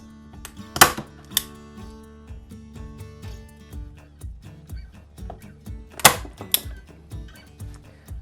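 Staple gun firing into jute and burlap stretched over a wooden sign board, two sharp loud snaps about five seconds apart, each followed by a lighter click, over quiet handling and rustling.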